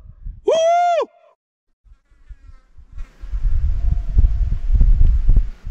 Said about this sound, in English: you could hear the echo like 3 seconds after that